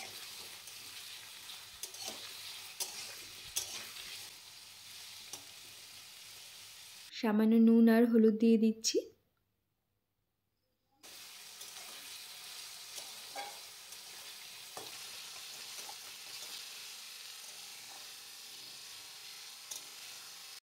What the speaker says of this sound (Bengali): আলুগুলোকে প্রথমে ভেজে নেব।